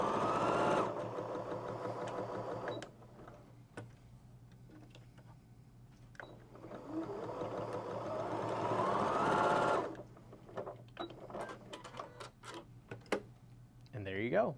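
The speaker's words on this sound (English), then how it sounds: "let's go ahead and do a quick little sew out" A Janome Memory Craft 6650/6700 computerized sewing machine stitches a quick test sew-out, its fast mechanical whirring and ticking running in long bursts with short pauses and light handling noises between them.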